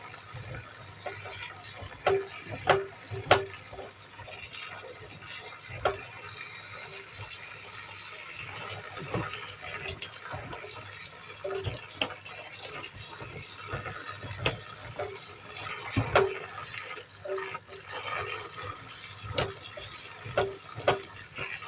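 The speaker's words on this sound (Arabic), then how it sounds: "هنشطفها عشان تبرد، لازم ايه نخليها تبرد عشان ما تستويش من السخونيه" Tap water runs quietly over cooked peas in a strainer as they are rinsed to cool, with a soft continuous splash broken by small clinks and bumps at a modest distance.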